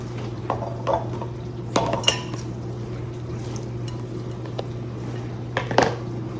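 Three pounds of ground turkey going into a mixing bowl for meatloaf, heard as a few soft thuds and clinks of dish and utensil over a steady low hum, with no talking.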